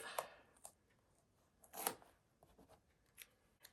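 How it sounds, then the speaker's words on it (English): Tape being pulled and pressed down to mask parts of a sunflower stencil for painting, a few sharp close rips and crinkles separated by quiet pauses, faint overall. "So I'm just going to tape these off."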